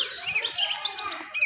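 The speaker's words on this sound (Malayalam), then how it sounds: "കിളികളുടെ സൗണ്ടൊക്കെ നല്ല രസമുണ്ട് അല്ലേ?" Birds chirp continuously along an evening walking path, with many small overlapping tweets at a steady moderate level and no voices.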